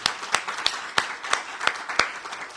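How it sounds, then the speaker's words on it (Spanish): A church audience claps in unison, about eight sharp, evenly spaced beats over steady scattered clapping, fairly close and loud, with no talking over it. "Le damos un aplauso a nuestro Señor."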